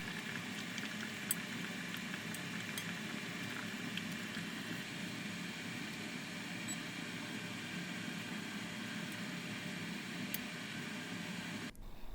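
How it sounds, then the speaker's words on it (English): Oden broth with daikon, boiled egg and fish cakes simmers over low heat, a steady soft bubbling and faint hiss running evenly with a few tiny pops, close and quiet. "Simmer on low heat for about 20 minutes."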